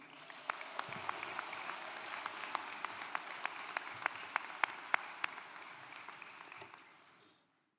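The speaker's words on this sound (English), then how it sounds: "I think they deserve another big round of applause." Graduates at a UL Lafayette university commencement receive steady, fairly distant applause from a large audience, sharp individual claps standing out before the sound fades away.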